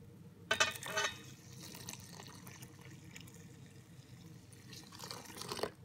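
Water pours from a container onto Marseille soap flakes in a bucket, a close splashing gush at first that settles into a softer trickle and dribbles, ending with a final brief splash, no talk.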